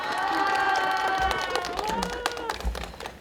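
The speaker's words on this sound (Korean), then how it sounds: "박수 한번 부탁드릴게요." A crowd gives brief applause at a press conference announcing seven feminist candidates in Cheongju, scattered claps rising under a sustained musical tone, with some background voices.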